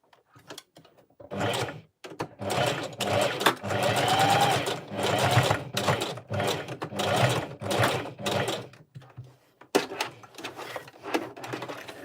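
A sewing machine stitches a wig in rapid rhythmic bursts, running for a second or two at a time with short pauses between, loud and close.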